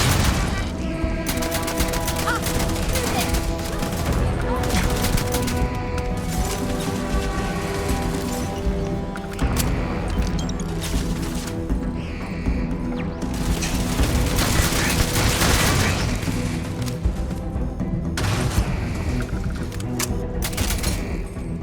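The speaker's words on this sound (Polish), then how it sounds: "Kto do mnie strzela?" Continuous heavy gunfire and booming blasts in the video game Starfield, a loud unbroken barrage of rapid shots layered over a thick rumbling backdrop.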